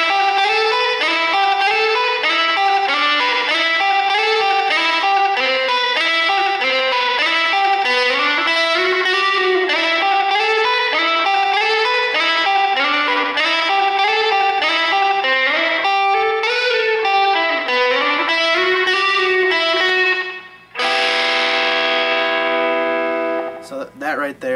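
Electric guitar playing a chorus riff, a continuous loud melodic picked pattern repeating for over twenty seconds, ending with a brief strummed chord.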